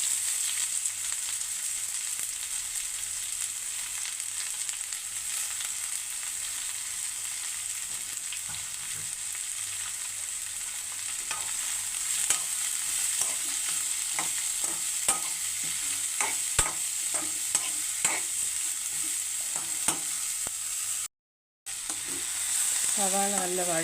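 Three large sliced onions fry in a pan for a prawn roast, a continuous close sizzle with intermittent scraping stirs growing more frequent midway, a brief cut of silence near the end.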